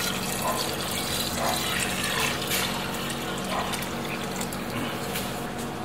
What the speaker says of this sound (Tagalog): Ngayon, maglagay tayo ng tubig.